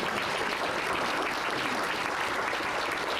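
Audience at a town business appreciation breakfast breaks into applause, a continuous wash of many hands clapping in a room, moderately loud and steady throughout.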